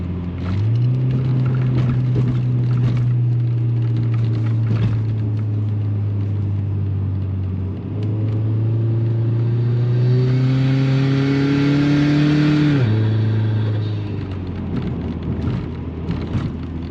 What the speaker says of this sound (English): That bypass valve fucking sounds crazy.